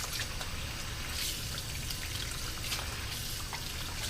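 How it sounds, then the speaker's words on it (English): Cold tap water runs and splashes over raw chicken breasts in a kitchen, a steady, fairly quiet trickling and pouring with scattered drips, continuous throughout and with no talking. "Rinsing all these breasts up."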